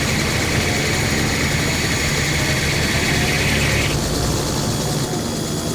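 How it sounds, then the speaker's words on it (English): Helicopter engine running in a mobile flight simulator game, a loud steady whine and low rumble with a high tone that drops off partway through, no talking. "you should turn your helicopter on"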